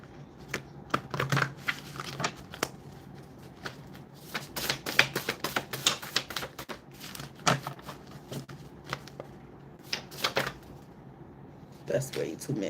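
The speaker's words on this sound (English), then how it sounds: "Let's give it one more little shuffle." Cards are riffled and shuffled in quick bursts of crisp, rapid clicking and flicking, repeated several times with short pauses between.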